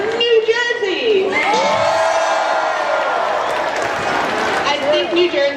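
Crowd of spectators at a FIRST robotics FRC district event opening ceremony yelling and cheering loudly, a sustained roar of many voices with shrill whoops and shouts filling the whole stretch.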